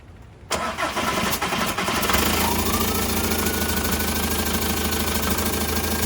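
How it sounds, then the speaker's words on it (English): A VW TDI diesel engine swapped into a car cranks and catches, then settles into a loud, close, steady clattering idle, with no voices. "so I'm gonna start it, let it warm up for a second, and take it for a drive around the block."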